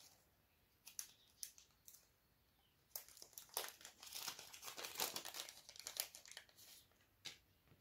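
Plastic bag rummaged and crinkled by hand while searching for a bag of diamond painting supplies, sparse crackles at first building to dense close crinkling, then trailing off; no talk.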